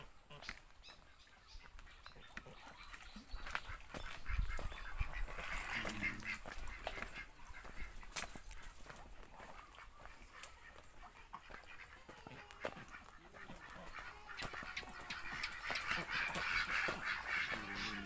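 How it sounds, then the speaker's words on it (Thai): Ducks kept together with chickens on a small Thai farm garden quack and honk in scattered bursts over steady outdoor ambience, with occasional louder calls and a dog-like bark mixed in. "เลี้ยงเป็ดกับเลี้ยงไก่อยู่ด้วยกัน"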